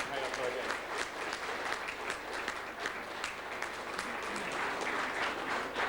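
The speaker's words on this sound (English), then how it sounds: "the committee deserves a major round of applause" A hall full of people at a school reunion breaks into a sustained round of clapping, a busy crackle of many hands with faint voices mixed in beneath it.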